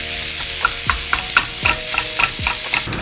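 Sausage meat frying with onions in a pan, pressed and mashed with the back of a wooden spoon: a steady loud sizzle with repeated soft scraping strokes, no talking.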